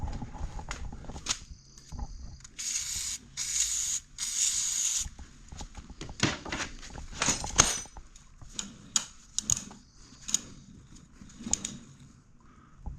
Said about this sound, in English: Let's try a little WD-40.